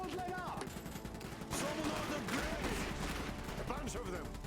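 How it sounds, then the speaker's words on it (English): Gunfire in the strategy game Iron Harvest, sharp overlapping shots and bursts over a constant battle din, with a voice talking throughout. "They're shooting at us!"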